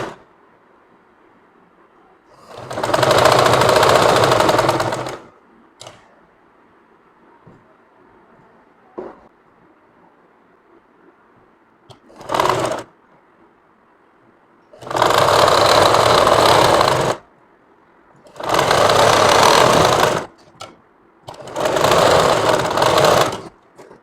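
Sewing machine stitching a kameez with a designed collar: four loud bursts of steady, whirring stitching, each lasting two to three seconds, plus a few brief clicks, with quiet pauses between and no talking.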